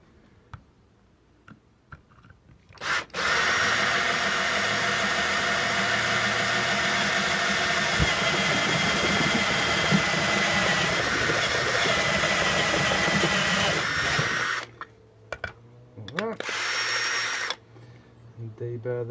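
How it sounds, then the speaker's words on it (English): A stepped cutter bores holes in a part for a GSXR K2 race bike project, giving a loud, steady whirring drill run of about twelve seconds, then a few short bursts with clicks and quieter gaps. "we'll show you this stepped cutter in action"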